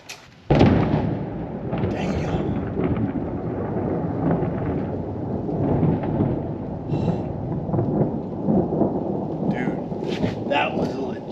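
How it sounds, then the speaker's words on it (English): Rain begins falling outdoors as a steady hiss starts with a sudden burst and continues, with rumbles of thunder and a voice speaking occasionally. "Oh, it's starting to rain now."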